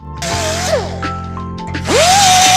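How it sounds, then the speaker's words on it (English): An angle grinder works down the welded corners of a custom metal fan shroud for a 1965 Shelby Cobra Daytona Coupé, giving a loud, close, continuous whine whose pitch dips and climbs as the disc bites and eases off. "So I'm grinding it down."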